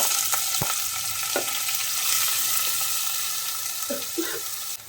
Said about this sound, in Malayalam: ഇനി അതിലേക്ക് നമുക്ക് ചെറുതായിട്ട് കൊത്തി അരിഞ്ഞ് വെച്ചിരിക്കുന്ന സവാളയാണ്.